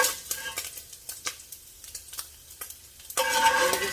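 Crispy bacon fries in a pan for a seafood chowder, giving close, scattered pops and crackles that swell into a louder, steady sizzle near the end.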